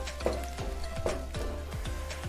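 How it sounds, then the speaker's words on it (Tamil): Onion paste sizzling and frying in a pan while a rajma gravy is cooked, with a steady close sizzle and soft periodic stirring scrapes, and no voices. "வெங்காய பேஸ்ட்டு நல்லா ப்ரௌனாக ஆகிற அளவுக்கு ஃப்ரை பண்ணிவிடுங்க"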